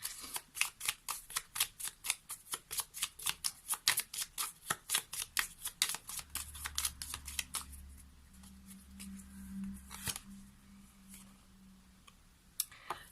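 Tarot cards shuffled rapidly by hand, a quick run of crisp flicking riffles that stops partway through, followed by quieter sliding and tapping as cards are drawn, close and alone.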